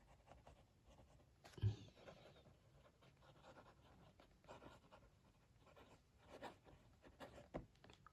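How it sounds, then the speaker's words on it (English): A Pentel Tradio fountain pen filled with black ink scratches faintly across paper in soft, irregular strokes, with a brief louder bump near the start, quiet and close. "Let's do some writing."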